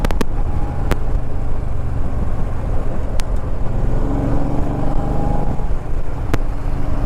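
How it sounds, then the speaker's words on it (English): Steady low rumble of road traffic with engines humming and a few vehicles passing nearby, continuous and fairly loud. "look at all the traffic coming this way."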